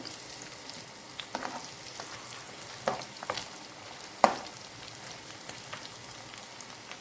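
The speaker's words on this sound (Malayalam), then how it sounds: "അരപ്പൊക്കെ പിടിച്ച് മൂത്തതിന് ശേഷം നമുക്കൊന്ന് ഇളക്കി കൊടുക്കാം" Beef dry fry being stirred in a pan: a quiet, low sizzle broken by a handful of scattered spatula scrapes and taps, with no talking.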